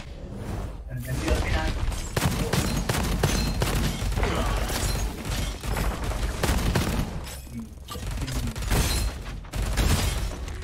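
Rapid, dense gunfire bursts from the first-person shooter game Gunfire Reborn, loud and nearly continuous, with brief pauses between volleys and sharp impact cracks.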